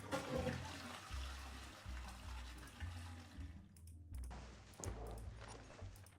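A toilet flushes in a Rusty Lake-style puzzle game, a loud rushing gush of water that fills the whole clip over steady low game music, then thins into a trickling refill near the end.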